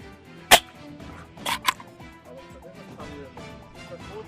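Air rifle being fired and reloaded while walking in the Tribeč hills: one sharp crack, then a pair of closer snapping clicks, with faint rustle and murmur in between.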